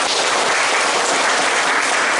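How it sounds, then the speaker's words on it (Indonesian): A class of about two dozen students applauds together in a classroom, a dense, steady clapping that runs loud and unbroken from start to finish with no voices above it. "Oke, tepuk tangan dulu untuk kita semua"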